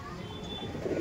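Pigeons at a loft coo softly in a short, faint burst over a low background hum.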